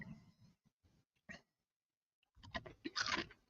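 Crunchy Japanese Pretz pizza-flavored pretzel sticks are chewed up close, giving a few brittle snaps followed by a dense burst of crisp crunching, with near-silent pauses between bites.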